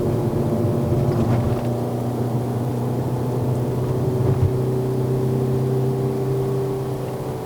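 A Toyota Estima 2.4L XR50 MPV engine climbs a steep mountain road near 4000 rpm, a steady loud cabin drone with harmonic engine tones that hold and shift slightly through gear changes, with no talk.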